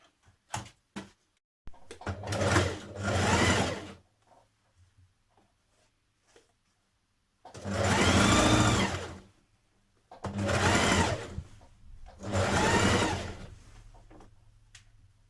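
Sewing machine stitching a 1.5cm seam attaching a waistband to trousers, four bursts of rapid whirring stitching separated by quiet pauses and small handling clicks.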